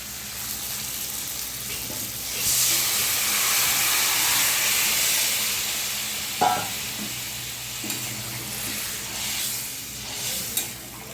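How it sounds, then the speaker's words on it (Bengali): Fish curry broth is poured into fried spice paste for a Bengali macher patla jhol, setting off a loud rising hiss and sizzle that swells, holds, then settles, with a few clinks and stirring knocks. "মশলা কষা হয়ে গেছে, তেল ছেড়ে গেছে, আমি ঝোলটা ঢেলে দেবো।"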